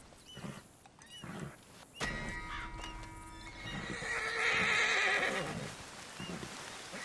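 A horse in the video game Red Dead Redemption gives a loud, drawn-out whinny that rises and wavers, preceded by a few softer snorts and hoof-like thuds, with game ambience underneath.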